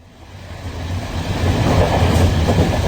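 A passenger train runs along the rails toward Newcastle, a steady rumbling roar with rhythmic wheel clatter that swells louder over a few seconds, close and continuous with no voices.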